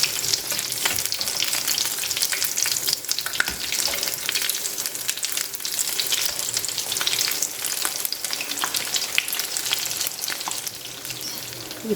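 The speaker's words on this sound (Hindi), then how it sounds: "अब पॉप्सिकल डालकर हम फ्राई करेंगे दोनों तरफ से गोल्डन ब्राउन होने तक।" Chicken popsicles deep frying in hot oil, a steady loud sizzle and bubbling crackle that runs unbroken throughout, with no talking.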